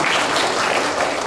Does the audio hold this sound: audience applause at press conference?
yes